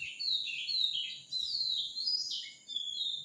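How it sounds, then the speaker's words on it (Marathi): Several birds chirp and tweet outdoors in a steady, fairly close chorus of high, bright calls, dipping briefly twice, with no one talking. "मस्त पक्ष्यांचा आवाज होता"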